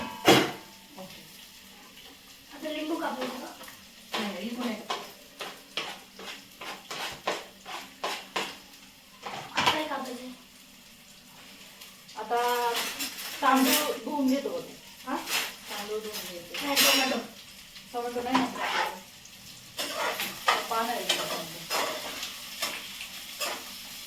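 Onion frying in oil in a pot for homemade biryani, a soft continuous sizzle with occasional utensil clinks, mostly under frequent talking.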